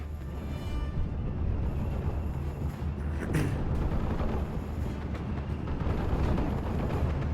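Mortar fire from a half-track shelling infantry in a World War II strategy game, heard as a continuous dense rumble of distant booms and crackling battle noise, steady and loud throughout with no voices.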